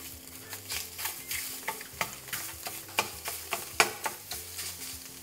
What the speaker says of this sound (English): Now we're just gonna break the sausage up with a wooden spoon so it's in tiny pieces.